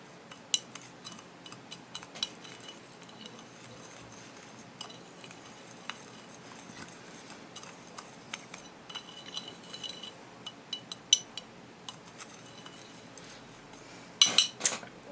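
A tool stirring and scraping through an incense mixture in a dish, making light clinks and gritty scrapes in an irregular rhythm, close and quiet, with a louder flurry of clatter near the end and no talking.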